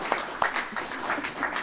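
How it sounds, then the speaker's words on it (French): Audience applause at a lecture on the resistance in Maritime Flanders, a short spell of moderate, scattered clapping with several sharp individual claps. "Je propose qu'on l'applaudisse aussi."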